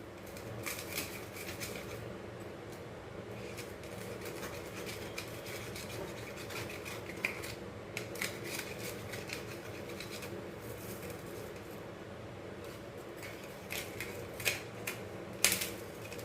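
A ragi cheese sandwich is cut on a hard surface, heard as quiet, repeated scraping and tapping knife strokes over a faint steady background hum, with a few louder clicks near the end.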